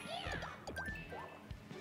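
A cat meows in Super Mario 3D World, a short series of rising and falling game-style meows clustered close together amid other game sound effects.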